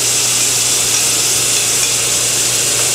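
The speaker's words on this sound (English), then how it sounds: "I'm going to put the onions in and start sauteing with it" Onions sautéing in reserved cooking liquid in a pan make a loud, unbroken sizzling hiss that stays even and close throughout.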